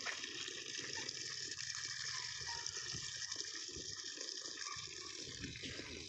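Water gushes steadily from a loose tap in a village setting, a continuous broadband rush that holds at an even, fairly close level throughout.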